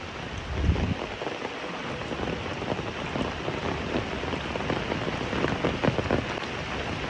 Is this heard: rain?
yes